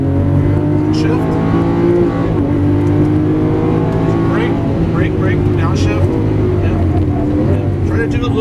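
A 2012 Lamborghini Aventador roars loudly on a Las Vegas race track, accelerating hard with rising engine tones and quick gear shifts. The drone is continuous and close for the whole stretch.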